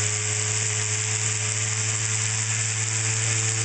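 A see-through oil centrifuge spins at around 7,500 to 8,000 RPM under 85 psi while filtering waste vegetable oil, giving off a steady, unbroken mechanical whine with a hissing wash over a low hum.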